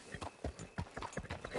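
Horse hooves clip-clop in a quick, uneven rhythm on a hard surface in the video game Red Dead Redemption 2, fairly faint and close.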